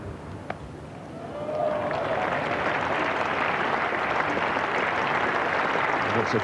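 At a 1985 England versus Australia fifth Test cricket match, a stadium crowd breaks into sustained applause for a single reaching 250, swelling after a quiet moment and continuing as broad, distant clapping.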